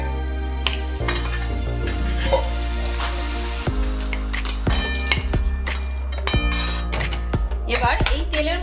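Fried potatoes being lifted out of hot oil, with repeated metal utensils clinking and scraping against the pan over a soft background sizzle.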